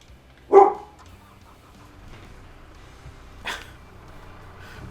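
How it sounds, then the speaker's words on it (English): A dog barking at people outside, two separate single barks a few seconds apart, the first louder and close, the second softer, over a quiet room hum. "dog hears people outside, so obviously they need a good barking at, according to her"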